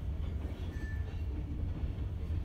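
Kiamichi Railroad freight train with KCS hoppers and gondolas rolling past in Idabel, Oklahoma, a steady low rumble of cars on the rails, with a brief faint squeal partway through.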